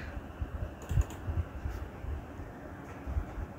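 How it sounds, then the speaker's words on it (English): Fingers type a name on a computer keyboard, a brief run of soft, irregular key clicks at close range against a quiet background. "Here we can type Jack"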